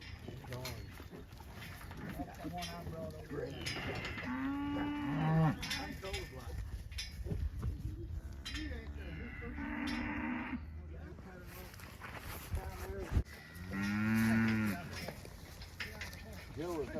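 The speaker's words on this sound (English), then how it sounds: "the cowboys do the sorting of the cows from the calves." Cattle in a corral, cows and calves together, moo repeatedly at moderate distance, several drawn-out calls rising over a background of people talking.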